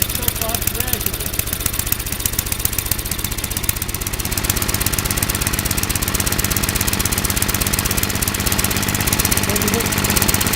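A snow blower's small engine runs steadily and loud close by, its throbbing rhythmic chug building fuller from about four seconds, with a voice speaking over it.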